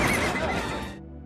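Horse in the wilderness letting out a loud, close neigh, a sharp rising whinny that trails off abruptly into near silence, with no voices.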